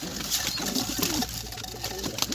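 Pigeons, kept as tumbler pigeons, coo softly amid a busy, noisy background of bird sounds and rustling, with no one talking.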